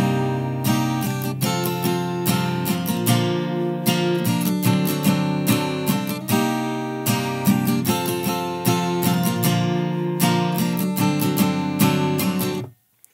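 An acoustic guitar strums the chorus chords of a song in a steady, rhythmic pattern of bright, full strokes, played up close and alone until the chords stop abruptly.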